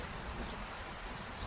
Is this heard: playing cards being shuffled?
no